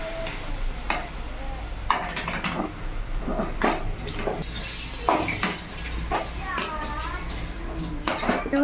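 A spoon scrapes and clanks around a pan while raw mango, onion and chilli chutney is mixed with mustard seeds and garlic, repeated metallic knocks over a light background sizzle, with a voice heard at moments.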